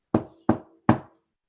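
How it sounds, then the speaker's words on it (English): Three firm knocks on a palace door, evenly spaced and close, each a sharp thud with a short decay, heard alone without talk. "His thoughts were interrupted, though, by a consistent knocking noise."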